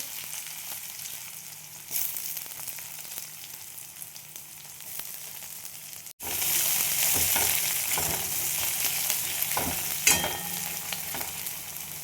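Cumin seeds crackle faintly in hot mustard oil in a pan. Chopped onion then goes in, and a much louder, steady sizzle takes over, with occasional scraping stirs.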